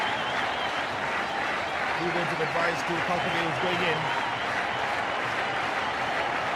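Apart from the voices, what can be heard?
cricket spectators applauding at stadium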